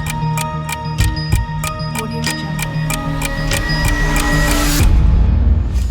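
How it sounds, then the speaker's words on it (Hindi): Countdown timer in a brain-teaser quiz game ticking in a fast, even rhythm of sharp clicks over a sustained tone, ending in a louder burst near the end. "तो ये रहा आपके लिए टाइमर।"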